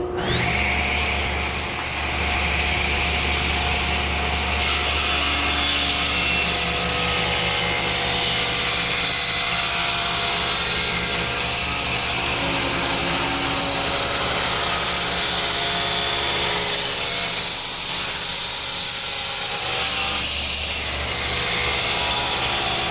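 Table saw cutting tapers on a wooden table leg blank with a taper jig riding along the rip fence, a loud continuous whine and roar of the blade through wood for over twenty seconds.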